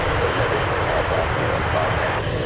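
A jet airliner powered by a pair of GE90 engines roars at full takeoff thrust at an airport. The rumble is loud, broad and steady throughout, heard from a distance.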